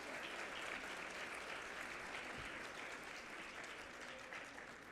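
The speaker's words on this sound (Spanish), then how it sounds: "Creo que se merecen un fuerte aplauso para iniciar este evento." Dense, steady applause from an audience opening a health and education results presentation, even and sustained throughout without talk.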